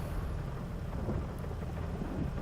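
Steady rain with low rumbling thunder in the Farming Simulator 22 game on the Haute Beyleron map, a dense continuous wash of downpour filling the whole stretch without talk.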